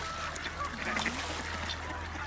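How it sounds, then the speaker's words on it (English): Ducks and geese at a pond, a few short honks and quacks rising faintly over a steady low outdoor hum, fairly distant and brief. "And the ducks and the geese really enjoyed eating the corn."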